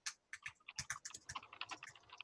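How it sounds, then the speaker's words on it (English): Rapid, irregular clicking of keys on a computer keyboard, heard up close and alone, with uneven bursts of keystrokes and brief pauses. "I'm typing something too."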